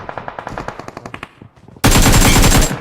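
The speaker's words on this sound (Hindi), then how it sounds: "उस सामने अपार्टमेंट से लेके पीछे अपार्टमेंट तक हर जगह गन फायर आ रहा है" Rapid machine gun bursts in the BGMI battle royale game, first a rhythmic string of distinct loud shots, then a dense, harsh, continuous volley close by.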